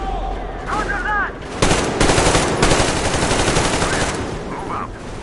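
Heavy covering gunfire in a video game, rapid machine-gun bursts hammering loudly for several seconds, with game voices calling out in between.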